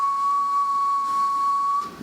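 A person whistling a single steady tone into a radio microphone to test a Palomar Power Deluxe 35a base linear amplifier, heard as a pure, sustained whistle over faint hiss for about two seconds.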